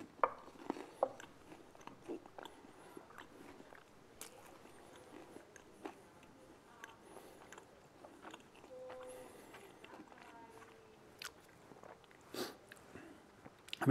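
Someone bites into and chews grilled sourdough toast topped with burnt leek and anchovies, giving close, quiet crunches and scattered crisp clicks with soft pauses between bites.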